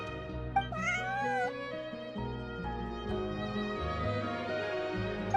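A cat in Genshin Impact gives a clear, close meow with a rising-falling pitch over a soft game music background.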